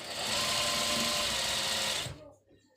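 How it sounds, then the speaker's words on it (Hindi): A sewing machine stitches trouser fabric in a continuous fast whirring run lasting about two seconds, close and loud, then stops abruptly into near silence. "कच्ची सिलाई लगा लेंगे"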